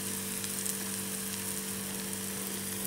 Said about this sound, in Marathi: हे पहा, कांदा आपण ढवळून घेऊया।